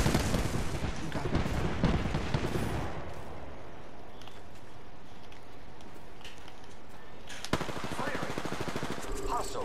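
In the Apex Legends battle royale game, dense rapid automatic gunfire rattles loud and close for the first few seconds, followed by scattered bursts and a final sustained volley near the end, with a voice talking over the action.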